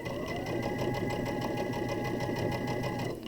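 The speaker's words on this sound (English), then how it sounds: "I'd much rather sew slow and not have to pin." A sewing machine stitching elastic onto a face mask runs at a slow, steady pace, giving a continuous close mechanical whir with rapid even stitch pulses and no talking.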